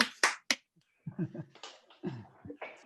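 One person claps a few sharp, quick times by hand at the close of an online astronomy lecture, and then a voice begins talking.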